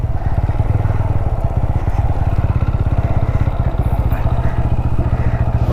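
A TVS Apache RTR motorcycle engine being parked runs loud and close in a steady, fast, even thumping idle that stays constant the whole time, with no voices.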